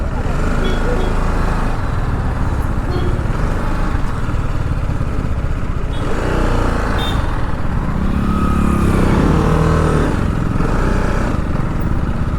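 A motorcycle engine runs loud and steady throughout while bikes are parked beside an old church in Goa, with rough, continuous engine rumble.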